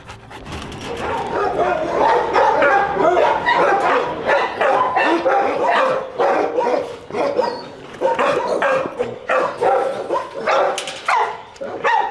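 Dogs at the SPA animal shelter in Gennevilliers bark loudly and almost without pause, with overlapping yaps and occasional whimpers filling the kennel space for about twelve seconds.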